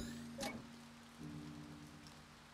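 Rain falls steadily inside a video game, a soft continuous patter with a low hum beneath it and a brief brighter burst near the start, with no talking.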